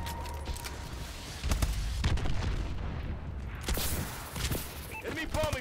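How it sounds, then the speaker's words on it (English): Missile strike explosions in the video game Call of Duty Advanced Warfare boom and rumble in several heavy blasts over a steady low background, with a voice speaking between them. "Enemy missile strikes!"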